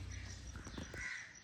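A crow caws a few times, fairly close, over low steady background noise outdoors near a gym in the morning.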